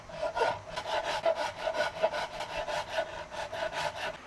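Hand shaping of a wooden guitar neck and heel as one piece, a rasp or file rubbing steadily over the wood in repeated even strokes, close and alone.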